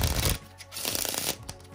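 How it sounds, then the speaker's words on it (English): A quick riffle of playing cards, a short papery burst followed by softer flutters and taps, close by. "Maybe we give them a shuffle."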